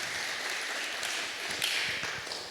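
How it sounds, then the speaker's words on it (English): Audience applause for a city council at a mayor's State of the City address, steady soft clapping from a crowd, faint and continuous throughout. "give them a round of applause because they're the ones that deserve it"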